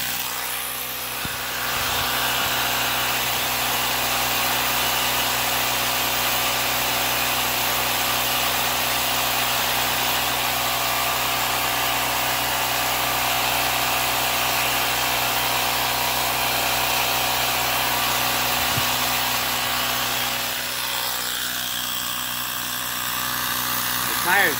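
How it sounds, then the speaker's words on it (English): A Ryobi P737D cordless tire inflator runs steadily while inflating a car tire, a constant loud motor buzz and drone lasting the whole stretch with a slight shift near the end. "The tire is definitely inflating."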